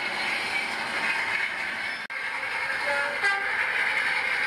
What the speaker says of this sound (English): Here comes Skiddaw pulling a heavy freight train.